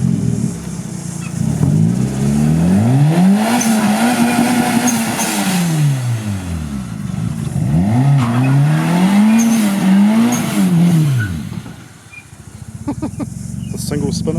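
A 1984 Toyota Starlet KP61 with a turbocharged 4AGTE engine pulls away loudly and close, its revs sweeping up and down through several gear changes before fading, with excited voices over it.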